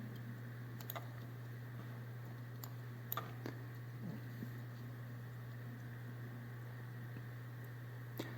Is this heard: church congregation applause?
no